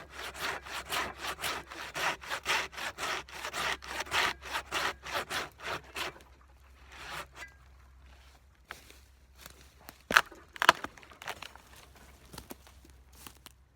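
Handsaw cutting a chunk from a log for firewood: about six seconds of fast, steady rasping strokes up close, then a pause with faint rustles and a couple of sharp knocks.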